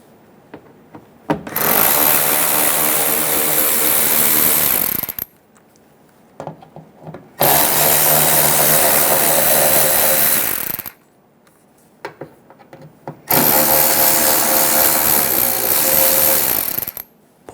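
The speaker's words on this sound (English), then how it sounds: "Using a T15 bit, we're going to remove 3 screws for the fender liner." Three long bursts of a power driver with a T15 bit backing out fender liner screws on a 2014-2018 Chevrolet Silverado 1500, each a loud steady whir lasting a few seconds, separated by short quiet gaps.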